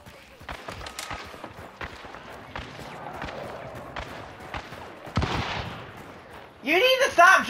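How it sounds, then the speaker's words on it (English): Gunfire in the multiplayer shooter Hunt: Showdown, a string of sharp, scattered shots with a louder burst near the end, over game ambience. "he's shooting a lot"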